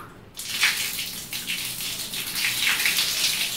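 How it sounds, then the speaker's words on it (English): Hot water bursts from a tap after a water heater repair, a brief quiet giving way to a strong, continuous splashing gush that stays close and steady to the end. "Let's see whether hot water is coming and if the water flow is good enough."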